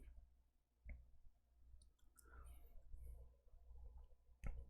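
Sparse, faint keyboard clicks tap out in a quiet room during an online class, with a few isolated keystrokes and soft background noise.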